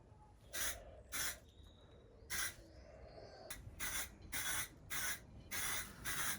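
Primer sprayed from a can onto car bodywork in a series of short hissing bursts, each about half a second long, close and fairly even, separated by quiet gaps.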